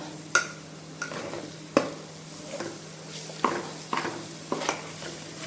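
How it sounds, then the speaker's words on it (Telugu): Tomato masala for a coconut milk fish curry is stirred in a pan, with a regular series of close scraping strokes over a low, quiet sizzle. "అడుగు పట్టకుండా కలుపుతూ ఉండాలి"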